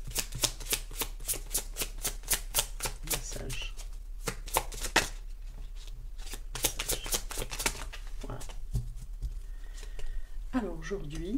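Tarot cards are shuffled in a fast riffle of crisp flutters, followed by softer card handling and slides, close, with a voice talking over part of it.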